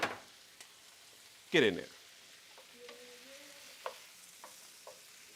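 Food sautéing in a pan gives a quiet sizzle, with a sharp burst of stirring and scraping near the middle and a few light clinks after it, while someone briefly speaks over it.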